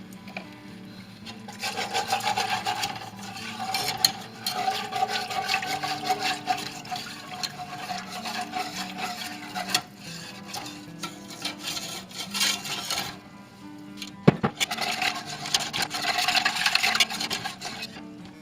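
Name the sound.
stirring milk into turkey wild rice casserole sauce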